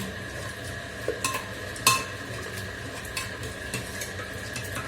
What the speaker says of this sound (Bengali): একটুখানি ঘি দিয়ে ফোড়ন দিয়ে দেবো, বেশ ভালো লাগবে।